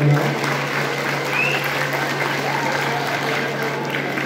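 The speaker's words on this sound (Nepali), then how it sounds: "चक्र दवाडीको लागि जोरदार ताली बजाउनुहोस्" Steady, dense applause from an audience honoring caricaturist Chakra Dawadi at a Nepali comedy show, sustained and even throughout with no voices rising above it.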